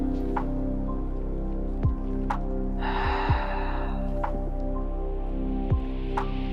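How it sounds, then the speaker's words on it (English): Deep yoga breathing, a long audible exhale rushing out mid-clip, close and soft, set against sustained background drones and occasional faint taps. "Exhale. Inhale. Exhale."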